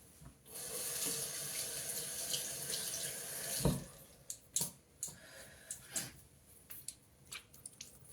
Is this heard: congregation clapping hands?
no